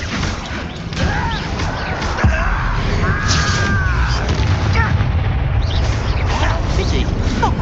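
A Bombarda blasting spell in Hogwarts Legacy lands with a heavy boom and crash mid-fight, followed by a sustained rumbling roar, while voices call out spells over the combat.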